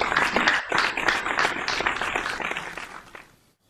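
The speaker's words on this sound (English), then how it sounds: "Another big round of applause again," An audience gives a dense round of applause at a performance show. The clapping is fairly loud at first, then thins out and fades to silence over about three and a half seconds.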